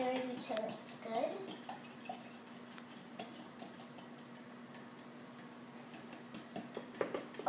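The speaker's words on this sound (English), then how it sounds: "I'm just stirring this little bowl that has some buttermilk, some baking soda, vanilla, and 2 eggs" A utensil stirs an egg batter of buttermilk, baking soda and vanilla in a small bowl, giving soft intermittent scraping and clinking close by beneath a steady low hum, with people talking.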